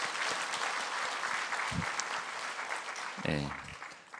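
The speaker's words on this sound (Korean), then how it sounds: "우리 격려의 박수 한번 해주면 좋겠습니다" Applause from a church congregation during an autumn special dawn worship service: a brief burst of clapping under a pastor's voice, with speech continuing around it.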